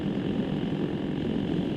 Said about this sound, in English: yeah, that engine is happy.